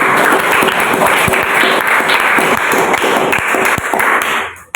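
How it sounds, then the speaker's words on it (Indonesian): Dense, loud applause from a school class fills the whole stretch, with rapid overlapping claps at a steady level that drop away sharply at the end. Some voices rise faintly beneath it. "Tepuk tangan dulu yuk, tepuk tangan."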